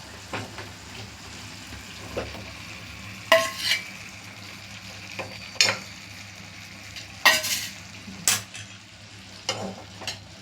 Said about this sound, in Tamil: நல்லா இறக்கி விடணும், கிளறி விடணும்.